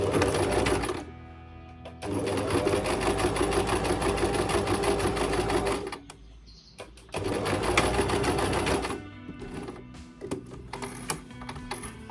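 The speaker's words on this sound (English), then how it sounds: "that's where we want to go ahead and sew that line up" A sewing machine stitches a seam on linen pants in two long steady whirring runs of several seconds each, close and loud, separated by brief pauses with light handling clicks, no talk.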